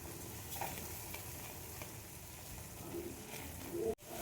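Quiet, steady sizzle of spice masala being fried and stirred in a pan for an egg tarka, a faint continuous crackle with a short scrape near the end.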